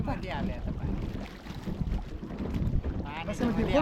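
Boat moving over dam water, with a low churning rumble, water splashing and gusty wind buffeting the microphone throughout, and faint voices in the background.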